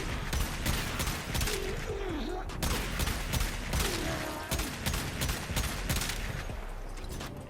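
Pistol fire from Mesa in the Warframe video game, a dense run of rapid sharp shots cracking out one after another over steady game noise throughout.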